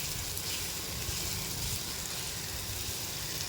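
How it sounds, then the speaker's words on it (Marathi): Crushed cluster bean thecha frying in oil with an asafoetida tempering, a steady, even sizzle throughout at moderate, close level, with no talking. "मी तेलामध्ये मस्त हिंगाची फोडणी दिली आणि ठेचलेलं सगळं साहित्य तेलामध्ये घातलं आणि छान आपल्याला खमंग परतवून घ्यायचं आहे"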